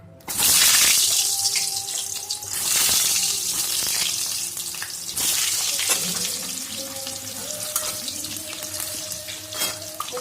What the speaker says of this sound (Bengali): এখন আলু কষবো।